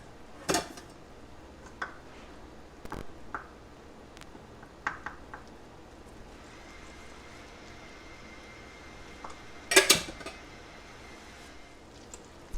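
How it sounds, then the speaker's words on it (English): Flour being stirred into six tablespoons of melted butter in a pan over medium-high heat: sparse, quiet scrapes and a few sharp utensil clinks against the pan, spread out over steady low background noise. "we're just going to stir that around in that butter"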